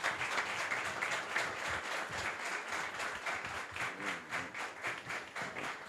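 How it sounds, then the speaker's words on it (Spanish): Church congregation in a worship service giving loud, sustained applause that holds steady throughout, dense rapid clapping from many people filling the room with no voices on top. "te invito a que te levantes y que con un fuerte aplauso podamos honrarlo"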